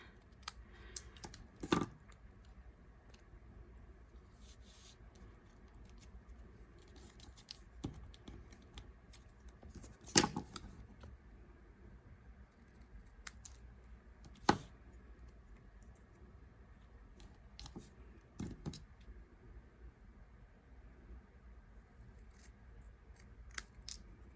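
Scissors trim a tag ring down to size with scattered sharp snips and clicks, a few louder cuts standing out against a quiet background.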